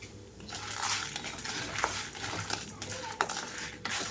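Dry red chillies tipped into a pan with coriander seeds and cumin, giving dry rattling and crackling with a few sharp clinks of metal on metal, close up and continuous for about four seconds.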